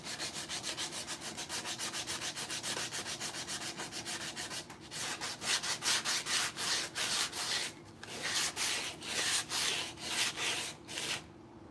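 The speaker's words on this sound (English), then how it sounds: "the chisel works a lot better to get the glue off than the sandpaper" A chisel scrapes dried glue off wooden rocking horse parts in a long series of quick, rhythmic rasping strokes, close and steady, with brief pauses as the strokes change pace.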